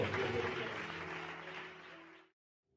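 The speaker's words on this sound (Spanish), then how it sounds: "Ese aplauso para el Señor" A church congregation applauds in a steady wash of clapping under a faint sustained tone, thinning gradually before cutting off into silence.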